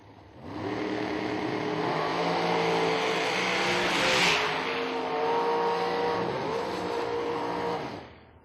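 Drag racing at The Million 2016, including Sherman Adcock's Peak Dragster, launching down the strip: a loud engine roar swells in, holds with rising harmonic sweeps, then fades, no talk.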